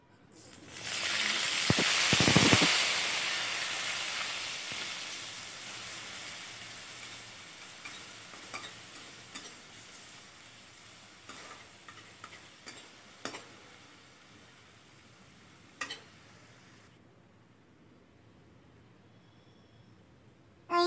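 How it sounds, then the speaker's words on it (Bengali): Cooking oil heating in a wok (kadai) for a Bengali black-eyed bean dish, with a loud sizzling burst early on, then a steady low frying hiss and occasional sharp ticks and clinks of utensils. "তো এবার আমি তেল দিলাইছি কড়াই"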